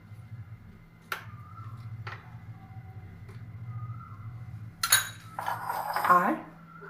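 A metal spoon stirs chutney in a dish while cooking idli, giving a few sharp, isolated clinks and then a busier cluster of scraping and chinking near the end over a low background hum.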